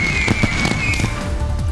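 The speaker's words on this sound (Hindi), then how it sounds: "महोत्सव में आधे घंटे तक चलती रही आतिशबाजी" Fireworks at the Saifai festival New Year celebration, with a quick run of crackling pops and bangs over a thick rumble and a thin whistle, loud and continuous.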